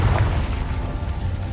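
A Confringo fire spell explodes in Hogwarts Legacy, a dense, loud, low rumbling boom that fills the short moment with heavy bass and no voices.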